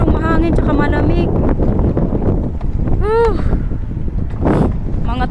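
Cold wind in the Netherlands buffets the microphone with a steady low roar, while people talk over it throughout.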